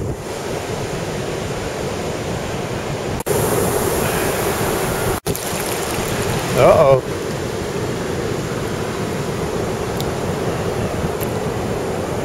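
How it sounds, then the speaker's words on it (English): Continuous roar of ocean surf washing close by, with wind buffeting the microphone, a few handling knocks, and a voice speaking briefly. "Big waves just came up here"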